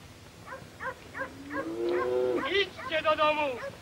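Cattle lowing in a 1955 Polish film scene set in Podhale, a series of short rhythmic calls building into a long drawn-out moo and then further wavering moos, clear and fairly close.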